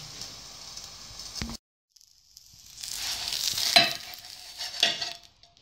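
Buckwheat galette with cheese cooking under a lid on low heat, a soft sizzle that cuts out briefly when the cover goes on, then a gentle hissing crackle rising and fading, close and fairly quiet.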